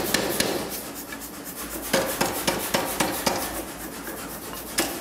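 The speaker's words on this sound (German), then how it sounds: "Ich nehme den Flachstahl glühend aus dem Feuer, lege ihn auf den Lufthammer" Air power hammer striking a glowing flat steel bar during forging, a quick series of sharp metallic blows with a steady clanging rhythm over a continuous rushing background, close and fairly loud.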